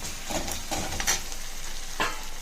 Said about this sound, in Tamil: இப்போ இதில் ஆட் பண்ணி நல்லா வதக்கிக்கலாம்.